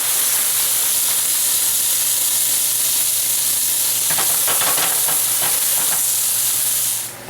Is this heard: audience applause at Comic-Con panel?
no